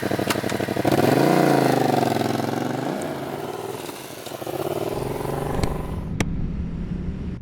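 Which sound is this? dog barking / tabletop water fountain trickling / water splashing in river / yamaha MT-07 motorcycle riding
yamaha MT-07 motorcycle riding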